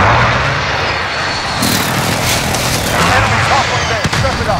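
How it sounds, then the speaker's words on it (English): A UAV aircraft drones overhead in the Modern Warfare video game, a rumbling engine roar that swells and holds beneath the battlefield din. "Friendly UAV overhead."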